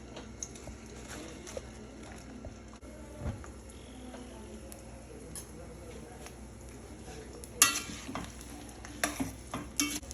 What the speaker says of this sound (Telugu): ఇప్పుడు ఫ్రై చేస్తున్నాను నూనెలో